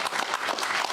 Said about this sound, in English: many in the room applauded her actions